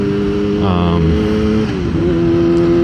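A motorcycle cruises on a highway, its engine droning loud and close in a steady tone that briefly rises and dips with throttle changes, while wind rushes underneath.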